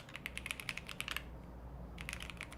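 Rapid typing on a computer keyboard, close and crisp clicks in quick bursts, a short pause in the middle, then more keystrokes, over a faint room hum.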